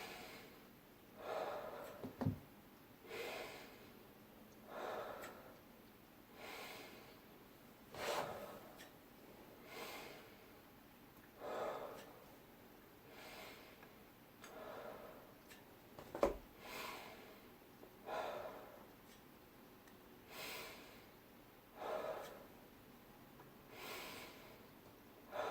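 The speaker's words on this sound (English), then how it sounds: "take a big deep breath in through your nose and blow out through your mouth" Slow, deep breaths in through the nose and out through the mouth from a patient during a medical exam, repeating in an even rhythm of roughly two-second swells, close and fairly quiet with no talking.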